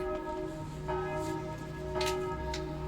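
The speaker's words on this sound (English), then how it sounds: "I've been woken up by church bells" Church bells ring out across a town at waking time, a steady sustained peal with several tones hanging in the air and a few brighter strokes standing out, heard alone without any voices.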